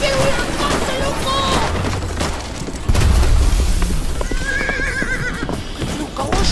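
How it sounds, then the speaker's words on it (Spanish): Horse neighing and clip-clopping hooves in a 3D escape video game, layered with loud game effects and a thudding impact, while a person talks excitedly over it. "Qué es un caballo, loco"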